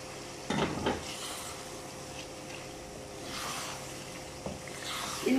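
Tomatoes and green chilies are stirred into a kali mirch karahi in a pan, soft scraping clatters of a spoon against metal over a low sizzle, close and intermittent, with no talk.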